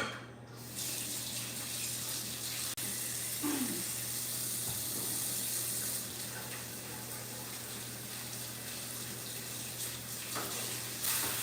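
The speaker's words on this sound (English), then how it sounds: "Let me wash my hands." Running tap water gushing steadily into a kitchen sink while hands are washed during home baking, a continuous close hiss with a low hum underneath and no talking.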